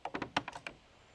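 Ratchet strap on a roof-framing job being cranked tight, giving a quick series of about seven sharp clicks over under a second, close and fairly quiet, then stopping.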